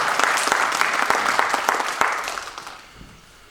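An audience at a Korean commemorative lecture event on religious history gives a short round of applause. The clapping is dense at first and fades out over about three seconds.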